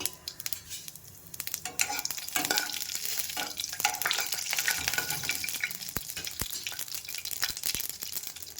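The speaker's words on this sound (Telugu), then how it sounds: "కడాయి పెట్టుకొని బాగా హీట్ అయినాక ఆయిల్, ఆవాలు, జీలకర్ర వేసుకోవాలండి" Mustard seeds and cumin hit hot oil in a kadai for a radish fry and set off a loud, dense crackling sizzle with scattered sharp pops. It sounds close and continuous throughout.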